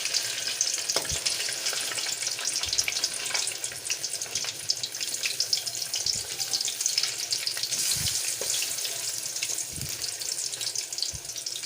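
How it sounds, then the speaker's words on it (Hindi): Fish deep frying in hot oil for a Lahori fish fry, a steady dense crackling sizzle close by with occasional low knocks and bubbling, continuous and moderately quiet with no voices. "अब तकरीबन 2 से 3 मिनट तक एक साइड से हम इसे फ्राई करेंगे। डीप फ्राई कर रहे हैं हम"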